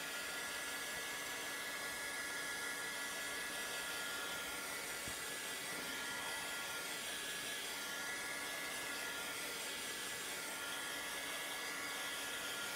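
Hair dryer blowing steadily to dry a freshly applied chalk transfer on a box surface, a constant close whooshing drone throughout with no voices.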